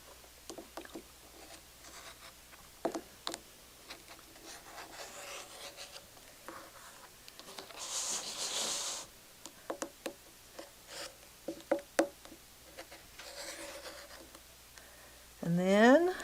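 Fabric pieces being cut for quilt block units, with faint intermittent scraping and rubbing strokes scattered across a quiet room, plus a louder rustle near the end.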